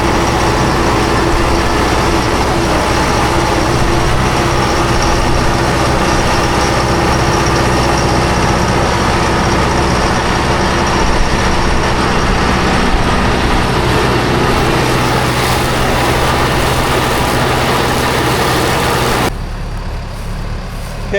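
A heavy tractor engine runs loud and steady at close range while cutting hay, a constant droning rumble that suddenly drops in level near the end.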